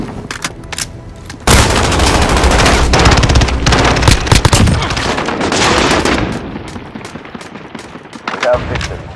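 Heavy turret machine gun fire in a Call of Duty Modern Warfare battle, a loud sustained burst of rapid shots with booming impacts after a few scattered opening shots, trailing off into sporadic reports.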